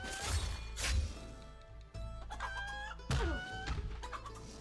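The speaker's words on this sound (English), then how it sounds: "you can fight the chickens." Chickens in the video game Absolum cluck and squawk in a flurry of game sounds, with sharp hit effects and bright chiming tones over a steady music bed.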